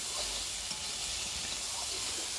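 Malabar spinach fruit fries with coriander leaves in an even, continuous hiss of sizzling oil, quiet and steady throughout with no other sounds.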